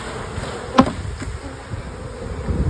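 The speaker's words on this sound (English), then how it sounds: "I'm going to shake these bees off into this nuc" Honey bees buzz steadily up close as they are shaken off a frame into a nuc box, with one sharp knock or thump partway through and no voices.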